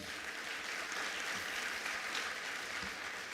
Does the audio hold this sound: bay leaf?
no